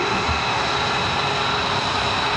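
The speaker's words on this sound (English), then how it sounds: "The P-51 considered by many to be the best overall fighter of World War II." Steady, loud drone of a P-51D Mustang fighter's piston engine at a military airshow, a continuous broadband roar with no pauses or talk.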